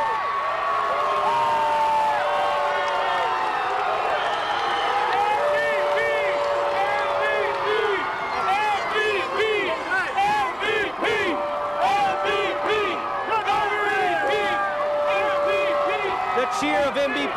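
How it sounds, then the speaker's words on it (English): A large crowd roaring and cheering at the 2005 San Antonio Spurs championship parade, a steady dense wall of cheers, whoops and clapping with whistles and horn tones, people talking over it throughout. "just listen, the roar from this crowd I was gonna say, is going to peak in just a second"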